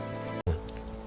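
Cold rain falling steadily on a surface at night, a continuous wash of patter, cut by a brief moment of silence partway through.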